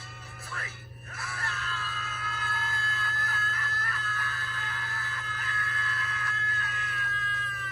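A group of people screams together in a long, sustained, loud collective yell to release stress, held for several seconds under a steady background hum.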